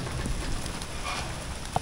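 Steady rain in Barra do Garças, the first after 160 dry days, hisses softly and evenly on surfaces with no voices, heard at a moderate distance with one faint tap near the end.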